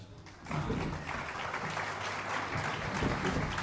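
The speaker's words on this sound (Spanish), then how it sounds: "Un fuerte aplauso para ellos." An audience at a memory, truth and justice conference breaks into strong applause, a dense, steady roar of clapping that swells in after a brief quiet moment and carries on to the end.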